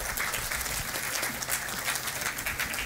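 Conference audience applauding guests as they return to their seats, a dense, continuous crowd clapping throughout at steady, moderate loudness with no speech over it.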